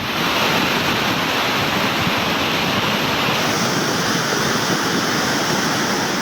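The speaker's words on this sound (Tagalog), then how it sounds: "makikita ang matinding pagragasa ng tubig baha mula sa Mount Canlandog, Poncian River ng Murcia, Negros Occidental" Floodwater rushing down the Poncian River from Mount Canlandog in Murcia, Negros Occidental, a loud, dense, unbroken roar of churning water with a wind-like hiss, filling the whole clip with no voices.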